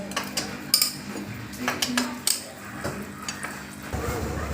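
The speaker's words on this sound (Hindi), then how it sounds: "सारा 8 mm बोल्ट है, सारा बोल्ट को ओपन कर लेंगे" 8 mm bolts being unscrewed from the magnet cover of a motorcycle, with a scattering of sharp metallic clicks and ticks from the tool close by, irregularly spaced.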